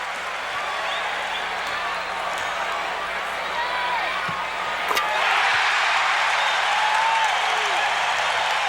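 A sellout arena crowd in Orlando at a Magic versus Pistons basketball game roars continuously, a dense wash of cheering that swells louder midway, with a faint sharp knock in the noise.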